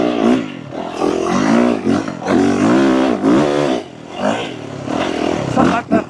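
A Yamaha YZ450FX dirt bike engine revs hard in repeated rising and falling bursts, loud and close, with brief drops between throttle pulls.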